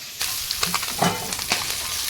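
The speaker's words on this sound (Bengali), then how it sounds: "মাছগুলো ভাজা হয়ে গেছে এখন উঠিয়ে নেব" Pond fish fry in oil in a pan, a close sizzling hiss with several short crackling pops and a stir or two.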